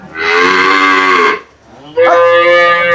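Two loud, close cow moos at a cattle market, a long drawn-out call followed after a short pause by a second one, with no talk over them.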